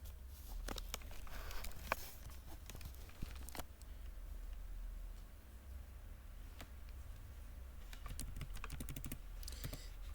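Fingers typing on a computer keyboard, with quiet, close bursts of key clicks, some rapid runs and some isolated taps, over a low steady room hum.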